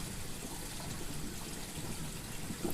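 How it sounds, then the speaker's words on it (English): Water from an aquarium overflow gurgles and splashes into the sump below with air mixing in, a continuous close churning wash of liquid that holds steady throughout. "This part here is allowing for air to come in and mix with this water and create the noise that you commonly hear within sumps"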